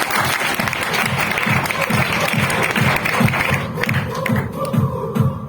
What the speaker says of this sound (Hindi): तालियां तो ऐसे बजाएंगे।